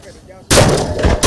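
Fireworks launching over a New Year celebration, a sudden loud close blast that is followed by a second burst a moment later.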